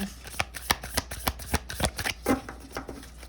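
A deck of tarot cards being shuffled by hand, a quick run of crisp riffling flicks and soft slaps repeating close up, alone without talk.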